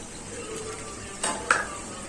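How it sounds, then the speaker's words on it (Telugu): A lid goes onto a pot of Nellore-style prawn curry simmering with turmeric, chili and water, making two quick, close metallic clinks over a faint steady kitchen hiss. "ఇప్పుడు మూత పెట్టేసుకున్నాం."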